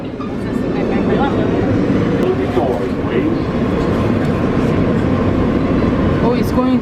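Manhattan-bound New York subway Q local train riding between stops, a loud, constant rumble and rattle from inside the car, with an announcement and people talking over it.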